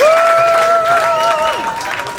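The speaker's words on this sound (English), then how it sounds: "Give her a round of applause." A talk show studio audience applauds for a singer as she is introduced, a short steady patter of clapping with a sustained voice tone riding over it, then fading slightly.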